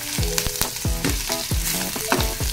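Garlic and ginger sizzle in a hot pan, a dense close frying hiss with repeated rhythmic stirring strokes and no voices.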